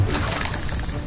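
A spell cast in Hogwarts Legacy on PS5 lands with a brief, loud shattering crash that fills the whole moment, bright and dense with no pause.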